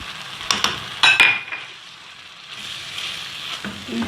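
Spoon clinks and scrapes against a pan while minced meat sauce with ketchup is stirred, with a steady sizzle of frying underneath and a few sharp metallic knocks early on.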